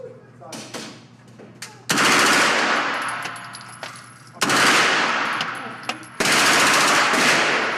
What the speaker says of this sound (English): Put the red dot where you want the bullets to go, squeeze the trigger.